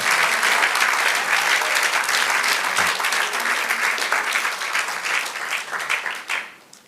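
A church congregation applauds to praise the Lord during a sermon, the dense clapping holding steady and full before fading away near the end.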